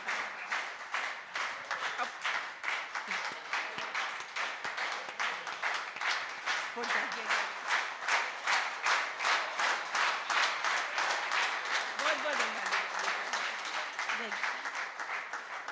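An audience at a Hindi poetry recital breaks into sustained applause, a dense steady wash of clapping that swells and rolls on for many seconds, with faint voices underneath.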